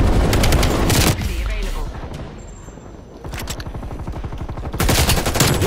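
Rapid automatic gunfire in Call of Duty: Cold War on the Nuketown map, loud bursts of repeated shots with brief lulls, close and dense, with a player talking over the shooting.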